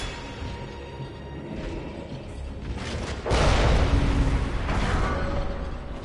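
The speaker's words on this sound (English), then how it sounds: "Oh, yeah, I'm gonna need the cannon." A cannon fires in the Bloodborne chalice dungeon with a loud, sudden boom about midway through, followed by a rumbling tail over ongoing game ambience and clatter.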